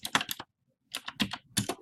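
Keystrokes on a computer keyboard while typing a name and address into a letter, two bursts of quick clicking separated by a short pause, close and clear with no talking.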